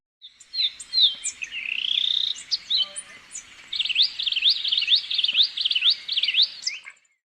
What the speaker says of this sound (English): Euphonia.